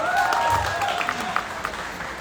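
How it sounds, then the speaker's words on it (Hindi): An audience applauds the film Pathaan at a live event, a steady loud wash of clapping filling the whole moment. "इसलिए जोरदार ताली होनी चाहिए।"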